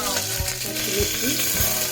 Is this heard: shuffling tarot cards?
no